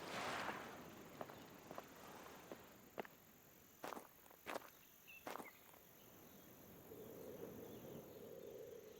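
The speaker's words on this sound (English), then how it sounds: "I hear footsteps. I don't think it's him, but I do hear footsteps." Several distinct footsteps in the video game Prehistoric Hunt, isolated thuds spaced irregularly over a quiet ambient bed with insect-like buzzing, faint and somewhat distant, with no talking.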